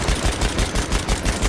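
Rapid machine gun fire in the World War I shooter Battlefield 1, a steady rhythmic burst of loud shots repeating about every fifth of a second throughout, with no voices over it.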